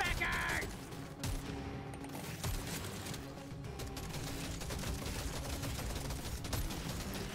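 Rapid bursts of gunfire from the video game Deep Rock Galactic Survivor, with dense shooting and mechanical effects continuing steadily at loud, even volume throughout.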